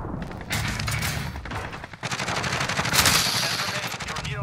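Rapid automatic gunfire and bursts of shots in Call of Duty Warzone, loud and dense, with a brief lull before heavier firing resumes, a faint voice underneath.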